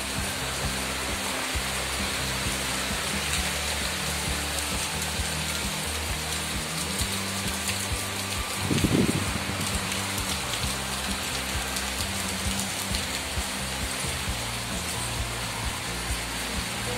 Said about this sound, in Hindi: देखिए जोरों की बारिश लग गई।